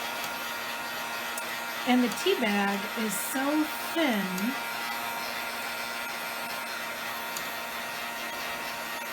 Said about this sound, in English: instead of my torch, I'm going to be using this heat gun to heat this up